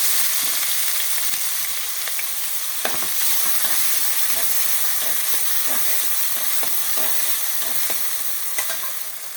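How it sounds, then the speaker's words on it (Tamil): Onions sizzle steadily in hot oil in a pan for vegetable rava upma, a loud continuous hiss with faint stirring scrapes throughout and no talk. "அடுத்தது வெங்காயத்தை போட்டுடலாம்."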